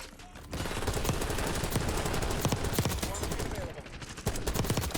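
Rapid bursts of Krig C automatic gunfire in Black Ops 6 on the Nuketown map, dense and continuous, with sharp repeated shots for nearly the whole stretch after a brief quieter start.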